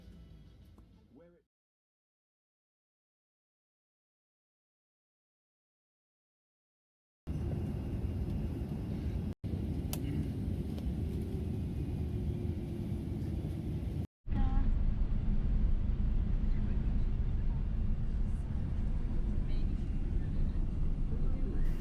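An Emirates airliner taxiing toward the runway, heard from inside the cabin as a steady loud engine rumble that begins abruptly after a near-silent gap, with brief dropouts along the way.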